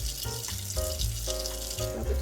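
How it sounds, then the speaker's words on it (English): Water runs from a tap into a bathroom sink while makeup brushes caked with foundation are rinsed, a steady close splashing flow that shifts in tone as the brushes move under the stream. "You can see the dirty foundation water coming out of the brush in my sink."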